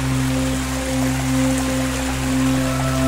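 A waterfall pours into deep natural rock pools at the Pozze del Diavolo, making a steady, loud, continuous rushing wash with an even level throughout and no voices.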